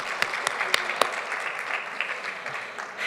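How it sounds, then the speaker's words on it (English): Applause from the audience at a university distinguished alumni ceremony, a broad steady patter of clapping with a few sharp, louder claps standing out near the start. "Yeah, that's worth a round of applause."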